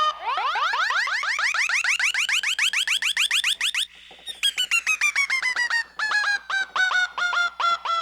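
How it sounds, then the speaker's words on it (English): Kontakt software synth from a modern producer library playing legato with portamento, bright harmonic notes sliding smoothly upward between pitches in repeated rapid pulses, then gliding downward in steady stuttering phrases, loud and alone. "you'll hear a little bit of a glide going on between the two notes that I press."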